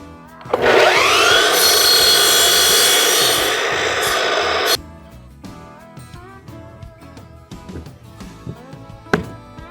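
A saw cuts a piece of wood sized to fit a door for an outdoor kitchen: a loud, continuous, close cutting whine for about four seconds, then scattered knocks and handling noises.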